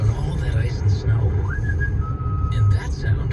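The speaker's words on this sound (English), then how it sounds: "that sound is our confident driver whistling Beethoven's Fifth" A man whistles a tune inside a Subaru in an ad about all-wheel drive on ice and snow, thin gliding notes heard under a talking voice and a steady low cabin rumble.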